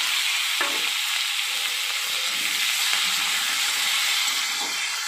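Sliced raw green tomatoes added to hot oil with fried chillies in a pan, giving a steady bright sizzle throughout, with faint stirring and scraping sounds underneath.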